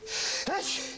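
A single short sneeze from a man in a Mac vs PC commercial parody, quick and close, with a faint hum underneath and no talk over it.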